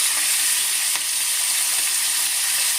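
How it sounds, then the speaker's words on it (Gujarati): Tomatoes going into hot oil seasoned with asafoetida and turmeric, a steady close sizzle with fine spattering throughout and one brief clatter near the start. "હવે ધીમે ધીમે આ ટમેટા નાખશું, કારણ કે ઉડે ટમેટા તેલમાં નાખીએ ને એટલે"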